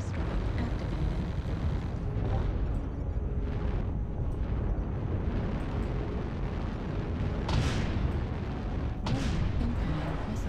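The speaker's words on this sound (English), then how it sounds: "Artillery strike activated." Artillery strike explosions in MechWarrior Online rumble continuously as a heavy, low roar, with sharper blasts standing out now and then over the steady barrage.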